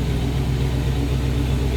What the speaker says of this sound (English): nothing crazy from that exhaust, just a nice little rumble to it